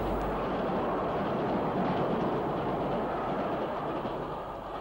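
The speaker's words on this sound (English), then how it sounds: "Merchant Navy 35027 Portline, now preserved on the Bluebell Railway, steams through with a train from Bournemouth" Merchant Navy 35027 Portline, a steam locomotive on the Bluebell Railway, passes with a train from Bournemouth, giving a loud, steady rushing roar with wheel clatter that holds and then fades slightly.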